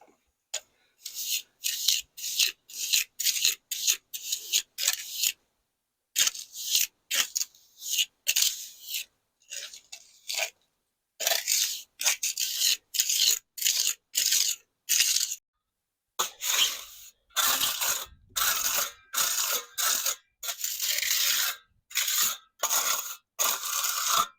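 Concrete patch mix is applied to a cracked concrete porch with a tool, giving repeated gritty scraping and rasping strokes in an uneven rhythm with short gaps, close and fairly loud.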